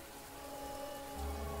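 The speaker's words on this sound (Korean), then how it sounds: "비가 내리기 시작했습니다." Steady, soft rain falls in a continuous hiss as a background effect in a horror story, with no voices and a faint low rumble swelling near the end.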